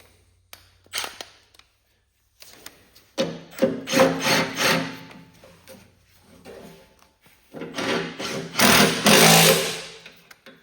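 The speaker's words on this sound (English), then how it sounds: "So now let's tighten up the wheel." A 9/16 wrench tightens a garden tractor wheel, heard as bursts of close metallic ratcheting and clicking between brief quiet gaps.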